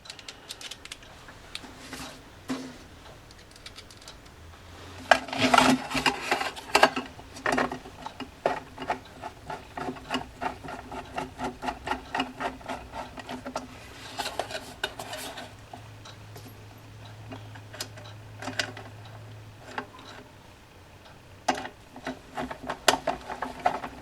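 A Phillips screwdriver drives sheet metal screws into a generator transfer switch kit, giving bursts of close, dry clicking and scraping ratchet ticks with short pauses between screws, and no voices.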